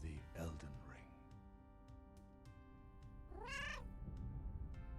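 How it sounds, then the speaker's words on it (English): Meowing cat sounds from the Elden Ring game play up close over game music and background effects, with a couple of distinct drawn-out meows, one early and one later. "Kitty cat noises."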